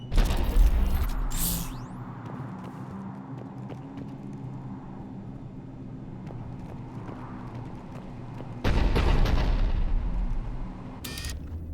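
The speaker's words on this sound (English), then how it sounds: "The cannon fire is clearing the way." Cannon fire and explosions in the video game Mass Effect 3, with heavy booming blasts at the start and again partway through over a steady low rumble of battle ambience.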